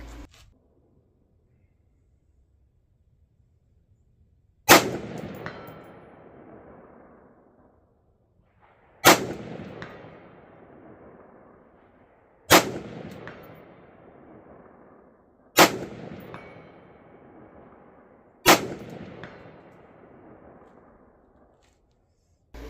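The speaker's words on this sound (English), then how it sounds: "So here's my first shots at 200 yards." Five sharp rifle shots ring out at a steel gong 200 yards away, each a loud crack followed by a decaying metallic ring, spaced about four seconds apart with no talking.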